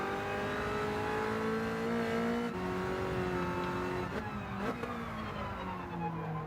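Race car engines roar and rev in Gran Turismo 7 during a close battle with a BMW and a Mercedes, a steady loud drone with shifting pitch and gear changes as the cars brake and accelerate.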